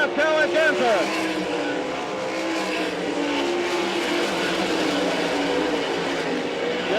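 Dirt track race cars roar past during an All Stars versus NCRA event at Wakeeney, Kansas. Loud engines rise and fall with a passing car early on, under continuous trackside commentary.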